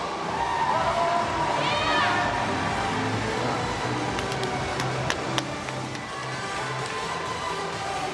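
Broad, steady roar from a large crowd at the 2022 World Swimming Championships final in Melbourne, filling the whole stretch with loud wash-like noise and a few sharp clicks, with a voice faintly present over it.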